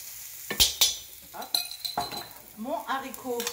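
A spoonful of garlic drops into a hot pan for a mussels in black bean sauce dish, giving a few sharp clinks and bursts of sizzle, with a voice talking briefly near the end.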